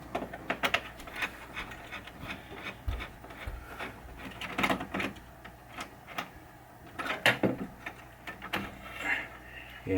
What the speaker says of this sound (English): I'm going to take these two screws out